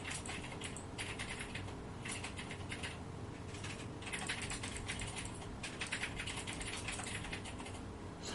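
Quick, uneven clatter of fingers on a computer keyboard, close and fairly quiet, in short bursts with small pauses between them.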